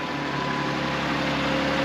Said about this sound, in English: I want you to hear just how quiet this engine is